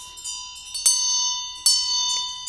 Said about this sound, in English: So the ringing of the bell follows the melody.